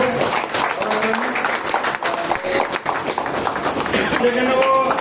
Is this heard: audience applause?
yes